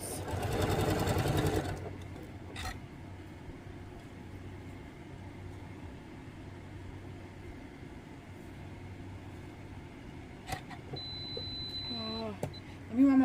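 A sewing machine stitching quilt block corners for a pear block, starting with a short loud burst of rapid stitching, then a long quiet pause with faint clicks and handling noises, and a brief whir near the end.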